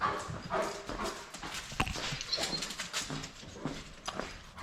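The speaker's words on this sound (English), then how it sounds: "Bailey's the neighbor dog." Bailey, a neighbor's dog, is heard in a homestead yard as a series of short, irregular, moderately loud barks or yips over the whole stretch, with some bird chirps in the background.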